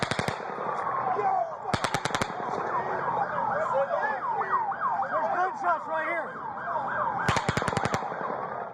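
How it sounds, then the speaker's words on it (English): Several sharp bursts of rapid rifle gunfire from the Las Vegas shooting crackle in quick volleys at the start, near two seconds and again near seven seconds, with warbling sirens and crowd commotion filling the gaps between them. "Then Paddock fires a fifth burst. It's around 22 bullets in 3 short volleys."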